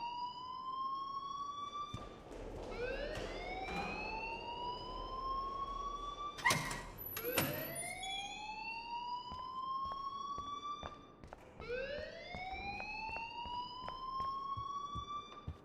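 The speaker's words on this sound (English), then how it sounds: "please turn off that alarm since that's your job" A school alarm in Life Is Strange sounds as repeated rising electronic whoops, each sweep climbing and then holding, looping steadily at moderate volume with a brief clatter partway through and no voices.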